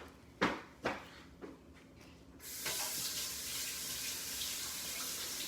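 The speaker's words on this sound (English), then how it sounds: "Wash your hands," A kitchen tap turns on at a sink and runs steadily for hand washing. Several dull knocks come first, then the water rushes on, close and constant until the end.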